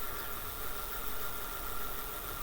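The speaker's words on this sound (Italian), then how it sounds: "sta ruotando spinta dal motore alimentato dalla batteria" A Fiido M1 Pro fat-tire 500W electric bike's motor spinning the wheel: a steady, even motor whir with a constant hum, running continuously without change in pace, moderately quiet and close.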